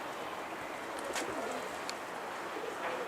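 A loose pet dove, an escaped pigeon-fancier's bird, coos softly outdoors, a few faint low calls over light background noise.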